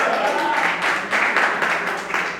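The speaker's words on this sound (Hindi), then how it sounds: "तो एक बार तालियों का महोत्सव इस बात पर कर दीजिए" An audience at a Hindi poetry recital on love bursts into applause, a dense wash of clapping that swells in waves and holds fairly loud throughout.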